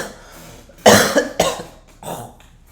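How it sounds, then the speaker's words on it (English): A man coughs several times in a short fit, three sharp hacking bursts close together followed by a softer one, near and loud with no talk. "I've had that cough for too long."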